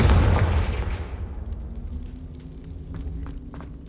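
Confringo blasting spell cast in the Hogwarts Legacy video game, a sudden deep explosive boom that rumbles and fades over a few seconds, followed by faint scattered crackles.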